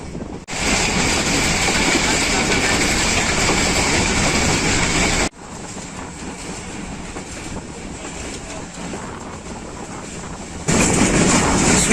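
The Awam Express of Pakistan Railways runs between Rawalpindi and Peshawar with a loud, continuous rumble of wheels and carriage noise, heard from on board with a brief shift in tone midway.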